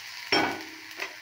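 Bata fish sizzles in a hot pan, a sudden hiss as something hits the oil, then a softer, fading crackle, close and alone with no talking.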